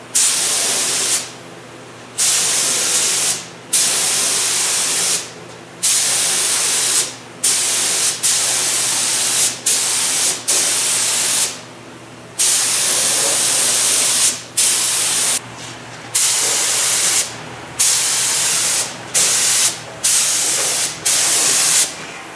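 Cheap high build primer hisses from an aerosol can onto a Cutlass bumper in a series of short bursts, steady spray passes of one to two seconds separated by brief pauses, close and loud.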